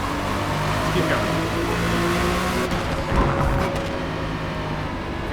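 A race car engine drones steadily under partial throttle in Forza Motorsport, a continuous loud motor tone with shifting pitch and a brief surge near the middle.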